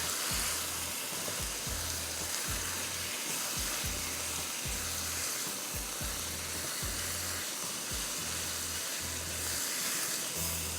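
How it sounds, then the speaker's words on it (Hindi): Chicken pieces frying in a pan for Kashmiri dum kabab, a soft steady sizzle with regular low thumps of stirring repeating every second or so. "ये आपने इसको फ्राई किया 5-7 मिनट, जब तक कि चिकन पिंक से वाइट हो गई"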